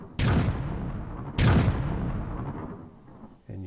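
Bombs thrown in the voxel game Trove explode twice, each a sharp, loud blast that rolls off into a long rumbling decay, about a second apart, with a faint thump near the end.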